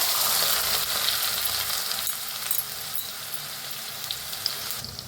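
Chopped onion with mustard and cumin seeds frying in hot oil, a steady close sizzle with crackling pops throughout, no voices.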